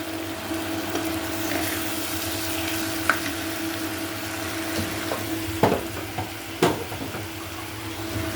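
Shrimp fry in a pan with a steady, close sizzle and hiss. Stirring adds a few sharp utensil clicks and scrapes along the way.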